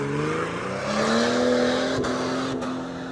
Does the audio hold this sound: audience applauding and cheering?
no